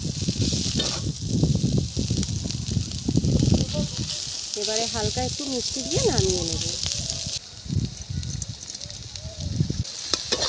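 Garden cabbage frying in a pan over village-style cooking, a steady broadband sizzle running throughout, partly under a woman's speech with brief scraping and stirring sounds midway.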